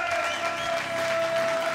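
An audience at a boxing event applauds steadily, a dense wash of clapping with a faint tone sustained underneath.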